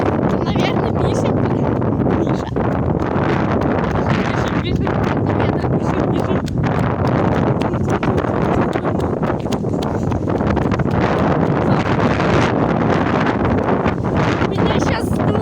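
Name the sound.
strong wind blowing on microphone outdoors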